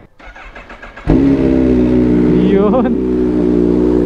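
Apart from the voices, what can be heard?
Yamaha Sniper motorcycle engine starting and revving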